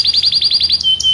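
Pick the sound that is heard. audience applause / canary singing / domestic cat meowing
canary singing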